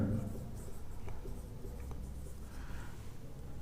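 Chalk or marker strokes on a classroom board run as a soft, scratchy scraping over a steady low hum, with faint talk in the room.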